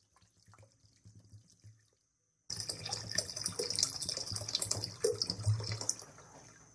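Water pours steadily into a pot for a hot and sour chicken soup, a broad splashing rush that starts abruptly and runs loud and close for several seconds after a quieter stretch.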